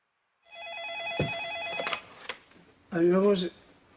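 A telephone rings with a warbling electronic tone, then a couple of sharp clicks, followed by a voice answering in Korean.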